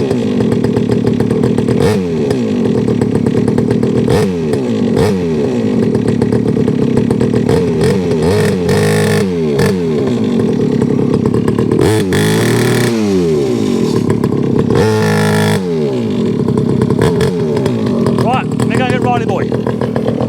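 A Rebo quad bike ATV engine with a poorly running carburetor runs loud and steady throughout, its pitch repeatedly rising and falling as it is revved, with brief harder throttle blips.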